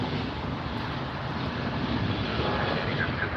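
A Southwest Airlines airliner taxis at LAX, giving a steady, broad engine roar with a low rumble that holds even and loud throughout, some wind buffeting the microphone, and no talking.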